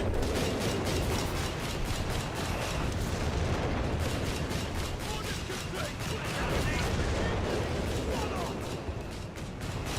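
A heavy artillery barrage mixed with gunfire in Company of Heroes 3 pounds on without pause, dense rapid blasts and shots layered into a loud continuous roar.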